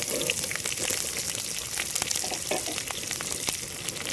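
Chopped onions sizzle steadily in hot oil for a chicken curry, a dense continuous frying crackle with occasional stirring scrapes, close and moderately loud with no talking.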